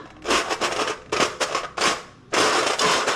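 Dried sago crisps (javvarisi vathal) rattle and clatter in loud, brittle bursts, four separate clusters of crackling handling, with no talk.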